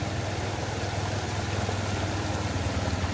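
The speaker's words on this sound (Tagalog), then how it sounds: "kung papakinggan mo yung tunog ng tubig, ang sarap din para ka nasa dagat." Steady rushing floodwater in Macabebe, Pampanga flows continuously with a broad hiss and low rumble, constant and fairly close throughout.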